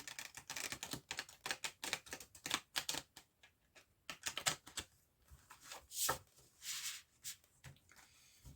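A tarot deck is handled and shuffled at close range, with quiet bursts of rapid card flicks and riffles separated by short pauses. No one speaks.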